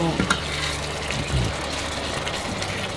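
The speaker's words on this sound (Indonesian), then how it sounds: "Kita tumis sampai wangi" Bay leaves, lemongrass and lime leaves stir-fry in a pan for chicken with green chili, giving a steady close sizzle with scraping stirs and a few clinks near the start.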